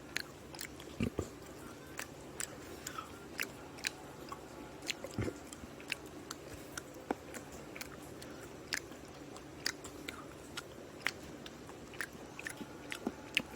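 Quiet, close biting and chewing of a fried egg with its yolk, soft squishy crunches repeating at an irregular rhythm against a low background hum, with no voices.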